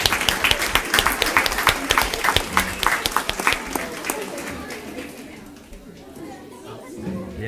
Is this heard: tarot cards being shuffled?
no